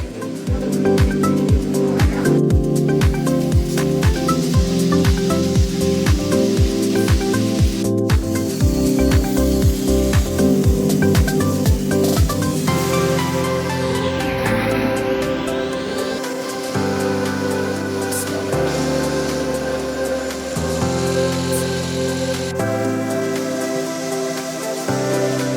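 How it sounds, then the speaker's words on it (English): A CNC machine finishes special-shaped screws, a loud, continuous mechanical whir and hiss with rapid rhythmic ticking at first, then shifting grinding tones as the work continues. "This link is the CNC finishing stage."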